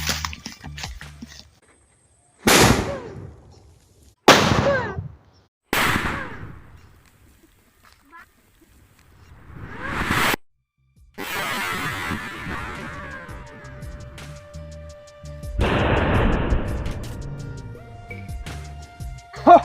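A large sutli bomb firecracker goes off underground, one of several sharp, loud blasts spread over the stretch, each one followed by crackling debris and quieter noise, with people talking in between.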